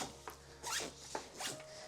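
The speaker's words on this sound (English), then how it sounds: "So let's zip this up and see how it zips." A packing cube stuffed with rolled clothes is zipped shut, giving several quick, close zipper strokes with short pauses between them, heard alone.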